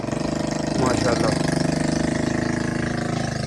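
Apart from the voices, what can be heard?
Massey Ferguson 240 tractor engine running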